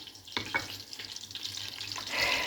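Onions frying in a pan give a soft, close sizzle with a few sharp stirring clatters and a louder burst of crackle near the end, and no talk.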